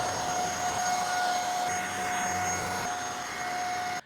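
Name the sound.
V30 Pro vacuum cleaner vacuuming a sofa bed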